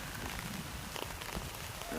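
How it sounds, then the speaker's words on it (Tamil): Rain falls over a farm field, a faint, steady, even hiss without distinct drops or talking. "மழை பெஞ்சிட்டு இருக்கிறதுனால"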